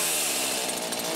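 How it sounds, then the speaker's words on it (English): A Ryobi chainsaw runs at a steady, loud, buzzing pitch throughout, close by and continuous. "We got our Ryobi chainsaw"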